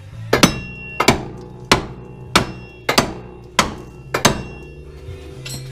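A hammer strikes a 2-inch puck lift being driven into place on a Honda RD1 CR-V, seven sharp, evenly spaced metallic whacks about one every 0.6 seconds, close up with no talking.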